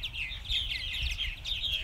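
Purple martins chirp at a colony house on a summer evening, a continuous stream of bright overlapping twitters and calls over a low outdoor rumble, moderately distant.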